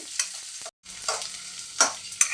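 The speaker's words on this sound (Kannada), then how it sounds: "ಈಗ ಈರುಳ್ಳಿ ಹಾಕೋಣ ಈಗ ಫ್ರೈ ಮಾಡ್ಕೊಡೋಣ ಈರುಳ್ಳಿ ಚೆನ್ನಾಗಿ" Onions fry in a pan, a crackling sizzle punctuated by bursts of stirring scrapes, briefly cutting to silence before resuming with several louder spoon strokes.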